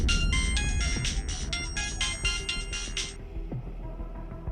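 A mobile phone ringtone plays as a bright electronic melody in repeated short bursts for about three seconds, then cuts off and leaves a low background hum.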